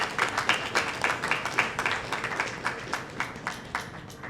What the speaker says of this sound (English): I think we should give a round of applause for that.